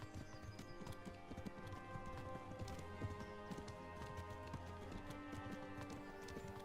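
Rapid, rhythmic hoofbeats of a galloping horse in Kingdom Come: Deliverance on PS4, over a musical game soundtrack, steady and fairly close, with no talking.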